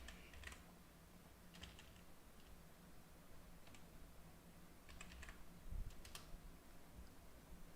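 Keys on a computer keyboard are tapped in short bursts of light clicks, quiet and close, with brief pauses between groups of keystrokes.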